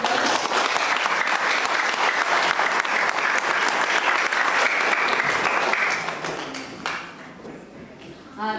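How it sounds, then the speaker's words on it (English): Sustained audience applause at a Zo community event in 2019, loud and dense for about six seconds before thinning out, with a few scattered claps and voices as it fades. "Can we give another round of applause?"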